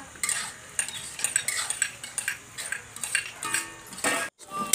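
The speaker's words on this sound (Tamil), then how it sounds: "பாருங்க, இந்த மாதிரி நல்லா வணக்கி எடுத்துக்கணும்" Drumstick seeds sautéing in a pan for a village-style chutney, with a spoon repeatedly stirring and scraping against the metal in a steady rhythm, up close, with a soft frying sizzle underneath and no talking.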